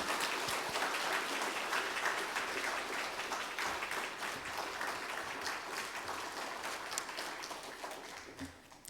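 A church congregation at an afternoon service claps to welcome a guest speaker, warm continuous applause heard from slightly back in the hall that slowly thins and fades toward the end.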